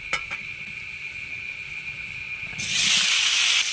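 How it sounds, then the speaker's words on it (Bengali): Raw green tomatoes hit hot oil that was just used to fry potatoes, bursting into a loud, broad sizzling hiss after a quieter stretch of low background noise. "আর এই তেলেই টমেটোটা দিয়ে দেবো"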